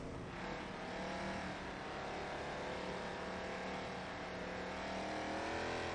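A hypercar engine in a racing video game drones steadily and fairly quietly for six seconds, holding a high, smooth rev with little change, with no talking over it.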